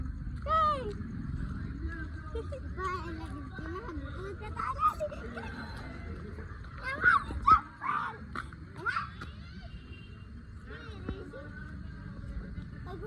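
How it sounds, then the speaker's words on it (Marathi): Puppies whimper and yip in short, thin bursts close by, mixed with scattered barks, while people talk over them throughout. "कुत्र्याची पिल्ल"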